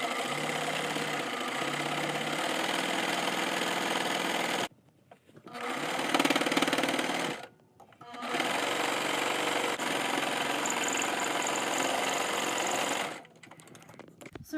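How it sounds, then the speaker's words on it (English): A sewing machine stitches fabric tape folded in half for a mask strap, running in steady, fast, close mechanical bursts with two short pauses and no talking. "So now I'm going to sew this tape in half."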